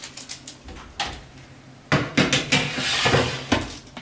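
Metal baking tray loaded with homemade crispbread slid back into an oven, with scraping and clattering knocks of tray against rack and a door closing, close and fairly loud.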